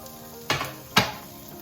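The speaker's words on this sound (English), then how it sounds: "We'll now add our carrots" Carrots drop into a hot oiled pan for Korean japchae stir fry, giving two sharp sizzling bursts about half a second apart, close and fairly quiet.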